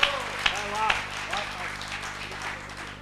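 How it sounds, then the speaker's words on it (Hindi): Audience clapping at a Haryanvi comedy show: a few sharp claps stand out over a steady crowd patter, with some voices mixed in. "तो एक बार जोरदार ले ताली"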